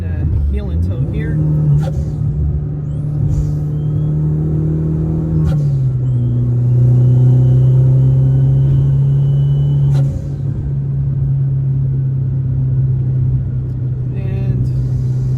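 A Toyota Supra engine holds a steady, loud drone that blips upward in pitch during a heel-and-toe downshift, then settles back to a constant note, with road rumble underneath and a voice speaking over it.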